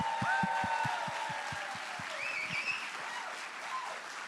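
An audience at a live team competition event applauds, with a dense, steady wash of clapping that gradually thins, while a few faint tonal sounds drift above it.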